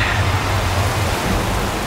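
A rain sound effect from a mythological Hindi TV series plays as a dense, steady rain hiss with a faint low rumble and no voices.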